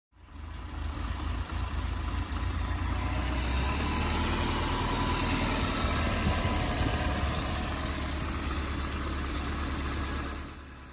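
A car engine starts and runs steadily at idle, a loud low rumble with a rough, knocking vibration, continuing unbroken until it cuts off near the end.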